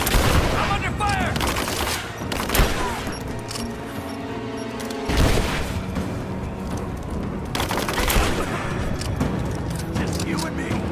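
Heavy gunfire fills a Rise of the Tomb Raider firefight, with loud rattling volleys and sharp bangs that rise and fall throughout, while voices shout over the shooting.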